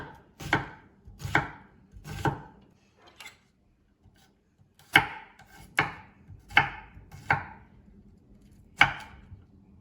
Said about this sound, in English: I'm just going to be cutting up a green pepper, onion, garlic